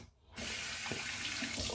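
Hot water running from a bathroom tap while shaving with a Harry's cartridge razor, a steady close rush that switches on abruptly after a brief quiet moment and continues without a break.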